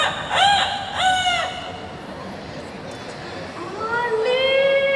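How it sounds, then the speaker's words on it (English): A rooster crows several times in a bird park, two loud nearby crows early on and a longer one near the end, over steady outdoor background noise. "We heard a rooster, right?"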